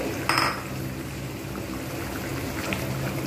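Katla fish pieces drop into a simmering curry with one soft splash and sizzle, followed by a steady, close bubbling hiss.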